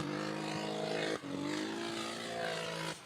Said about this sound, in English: That does not sound like an E36. I think that's running 5-cylinder, unfortunately.